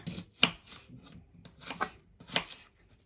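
A knife chops red onion on a board in a few quiet, separate strokes with brief scraping between them, close and soft.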